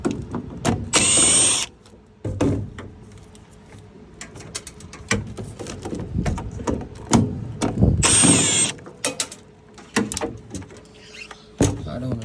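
A power drill backs screws out of a Trane blower housing, giving two brief, loud whirring bursts several seconds apart amid clunks and handling noise, with some background talk.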